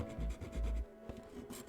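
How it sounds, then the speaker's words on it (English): A file and sandpaper rub over a sealed USB charger patched with CA glue and baking soda, producing quiet, rhythmic rasping strokes close to the listener. "it was also followed up with a lot more filing and sanding"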